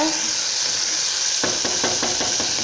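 Onions stirred as they fry in a pan for mint chutney: steady sizzle throughout, then a run of regular scraping stirs and knocks in the second half, close and clear.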